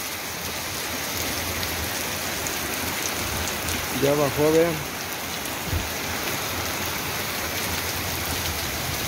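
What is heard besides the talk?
heavy rain falling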